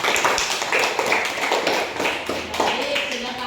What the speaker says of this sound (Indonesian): tepuk tangan juga untuk Kak Resiliana